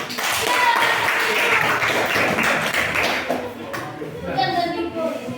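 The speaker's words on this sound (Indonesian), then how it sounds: "tepuk tangan untuk dua kelompok ini" Classroom students applauding two student groups during a teaching practice lesson: a steady wash of clapping that fades after a few seconds, with voices rising over the tail end.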